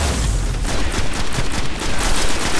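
Sniper gunfire in the video game Destiny, a dense burst of rapid cracks and booms packed together over a few seconds, loud and close with no pause between shots.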